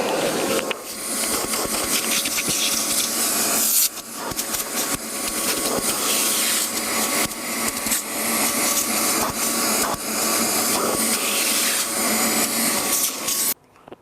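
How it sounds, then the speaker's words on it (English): Car vacuum cleaner running continuously and loud during a budget interior detail, with a steady whining hiss and brief dips as the nozzle moves, then cutting off just before the end. "So I'm going to get my vac and give it a quick suck off."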